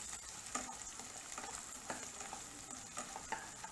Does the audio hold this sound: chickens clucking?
no